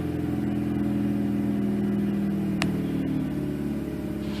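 A Mazda RX-8 rotary engine with a new BHR coil installation idles steadily after a hard start, holding a smooth, even mid-pitched hum with a single brief sharp click partway through.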